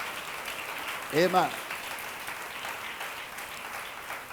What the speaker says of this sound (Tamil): கரங்களை தட்டி பலத்த கரகோஷம்